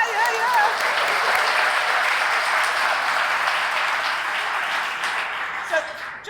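Audience applause at a Hall of Fame induction ceremony, a dense, steady wash of clapping lasting several seconds at close range, with a few whoops and voices mixed in before it tapers off.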